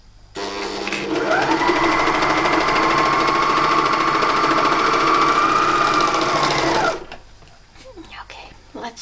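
Sewing machine stitching a shirt: one long steady run of fast mechanical whirring and needle chatter lasting about six seconds, close and loud, then stopping, followed by light handling noises.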